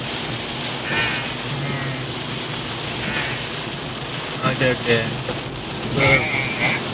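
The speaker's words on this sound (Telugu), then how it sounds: "ఇక్కడ ఫుల్ వర్షం ఇప్పుడు బాగా ఎక్కువైంది" Steady heavy rain hisses throughout in Sunnyvale amid flooding, with a few brief louder splashes and short spoken words partway through.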